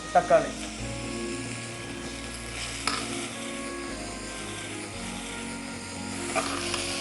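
Potatoes and vegetables sizzle steadily in a pan, a soft continuous frying hiss with occasional clinks of a utensil and people talking nearby.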